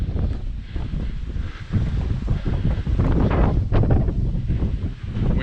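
Strong wind gusts roar steadily across the microphone outdoors on the coast at Santa Ponsa, a dense low rumble that swells and eases without pause, with no voices.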